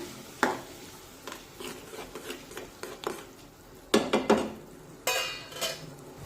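A spoon scrapes and clinks around inside a pot of farsan vegetable curry in uneven strokes, soft rubbing punctuated by a few sharper knocks, nearby and without talk.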